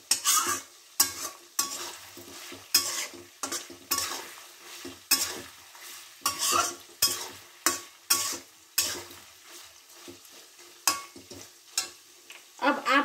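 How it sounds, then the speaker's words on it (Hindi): Buffalo meat for pickle being fried over high heat in a pan, with a spoon scraping and stirring in a steady rhythm of sharp, close strokes roughly every second over a soft sizzle. "अब तक तो मैं धीमी आग में पका रही थी, अब आग तेज करूंगी और भुनूंगी"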